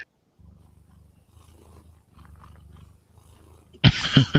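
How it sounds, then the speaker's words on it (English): A cat makes low rumbling, purr-like noises close by, in broken stretches, and ends with a sudden louder burst. "Cat noises."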